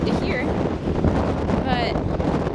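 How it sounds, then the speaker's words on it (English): Gusty wind buffets the microphone outdoors on a windy day, a constant loud rumbling roar throughout, with faint voices and a brief whistling tone under it. "It's been a very windy day and it might be kind of hard to hear"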